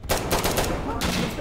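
Gunship gunfire in the military shooter Insurgency: Sandstorm: a short, loud burst of rapid automatic shots with a distant rumbling character, heard alone for about a second and a half.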